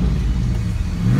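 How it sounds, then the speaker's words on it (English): A 2000 Chevrolet Camaro SS Z28 engine revs and rumbles up close, a deep throaty exhaust note rising briefly and holding steady. "the exhaust sounds great"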